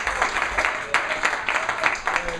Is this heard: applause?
yes